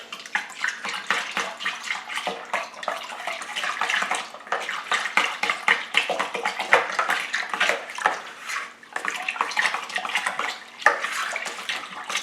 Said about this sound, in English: we're going to give this a good stir